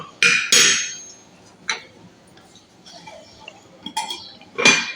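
A spoon taps and clinks against a metal pot as heaped spoonfuls of crushed coriander and fennel go in, a few sharp metallic chinks spaced by quieter scraping.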